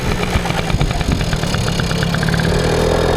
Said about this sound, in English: So it was a 50cc scooter